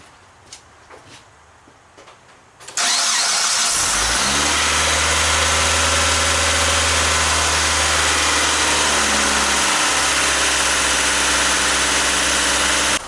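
Car engine cranks and fires after a few faint clicks, then settles into a loud, steady idle with a deep hum that dips briefly partway through, as part of an idle air control valve check.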